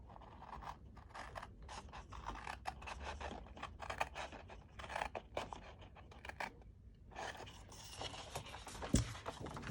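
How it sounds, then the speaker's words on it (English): Snips cutting through card for a boutique bottle gift box, a series of crisp snipping and scraping strokes close up, pausing briefly before a final flurry of cuts. "Now I'm going to bring in my snips because we need to cut this bit here"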